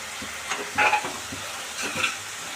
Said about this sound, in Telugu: ఇది కూడా పచ్చివాసం పోయే వరకు వేయించుకోవాలి